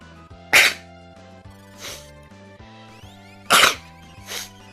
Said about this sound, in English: I apologise, I just had a sneezing fit.